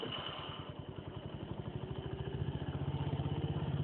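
A tuned Zetka 50 moped engine runs on its own, its rapid, steady two-stroke firing pulses holding close and loud and building slightly toward the end.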